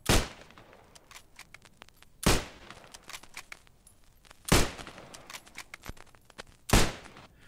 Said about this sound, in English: Watch as this soldier uses the Springfield rifle. He has a single, bolt-action firing rate.